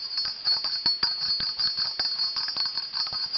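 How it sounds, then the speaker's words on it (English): A large sleigh bell from a Lionel Polar Express O-gauge train set jingles continuously in rapid shaken bursts, bright and metallic, close up and fairly loud with no voices. "It's really wonderful. And it's so huge too. Just like the boy rings it in the movie."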